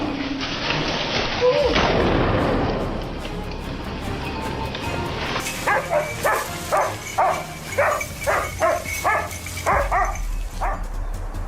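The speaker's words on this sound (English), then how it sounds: "Suddenly, the baying of hunting dogs echoed nearby." Hunting dogs baying on a boar hunt, a run of rhythmic barks in the second half following a loud rumbling roar of rain or thunder, with a voice briefly heard.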